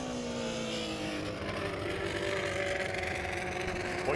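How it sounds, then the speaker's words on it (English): Midwest Sprints race cars with chain-driven 1100cc motorcycle engines howl around Lake of the Ozarks Speedway during heat races, a continuous high-pitched whine with rising and falling engine tones as cars pass. "your Midwest Sprints powered by an 1100cc motorcycle engine, chain driven to the rear end"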